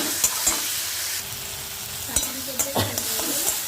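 Tomato, onion and green chili frying in a pan for eggplant bharta, a close sizzle broken by several sharp clacks and scrapes of a spatula stirring, with no talk.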